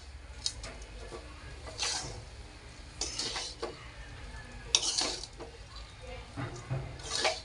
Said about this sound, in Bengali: এলাচ নেড়ে চেড়ে ভালো করে সব কিছুর সাথে মিশিয়ে নেব